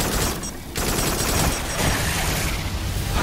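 Rocket fire from the VR shooter Farpoint fills a short, loud burst of combat, the launches blurring into a dense, rumbling volley.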